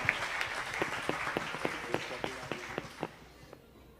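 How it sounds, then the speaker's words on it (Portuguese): A church congregation claps along during a worship service, sharp steady hand claps in a brisk regular rhythm over a murmuring background, thinning out and fading near the end. "com alegria, com as palmas para Jesus"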